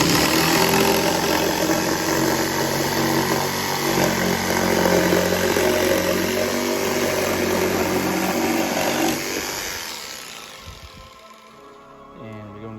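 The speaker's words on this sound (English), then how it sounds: "I got my jigsaw. We're gonna cut this bad boy out." A jigsaw cuts out a DIY Halloween craft tombstone with a loud, continuous buzzing roar that holds steady for several seconds, then cuts off and winds down to quieter scattered clatter.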